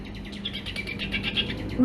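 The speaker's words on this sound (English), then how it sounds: "It's nighttime too, so it's the evening bird song." A songbird sings at nightfall in a quick run of varied, repeated chirps and whistles, fairly close and clear over a low background hum, with a brief louder sound at the very end.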